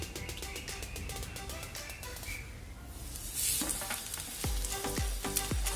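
Steady sizzling and crackling of an egg-dipped bread slice frying in a pan for French toast, with a few soft scraping and tapping sounds from handling near the end.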